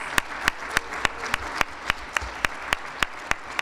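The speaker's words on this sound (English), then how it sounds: "Applause." At a Founders Day awards ceremony, an audience claps in a slow, even rhythm of sharp individual claps about every third of a second over a low room murmur.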